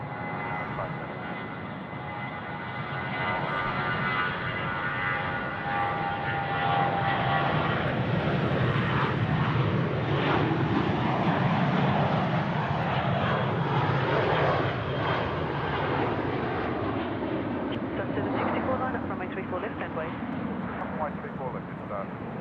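A jet airliner departs Sydney Airport, its engine roar building over several seconds to a broad, loud rumble and then slowly easing, with radio chatter heard faintly at times.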